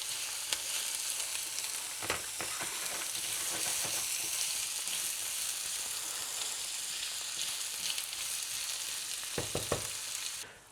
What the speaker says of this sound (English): our oil is hot, so we're gonna go with our veg here in